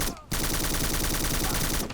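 Enemy gunfire in the 2006 Xbox first-person shooter Black: a rapid, sustained automatic burst pounding out in a steady rhythm after a brief lull, loud and dense for nearly two seconds.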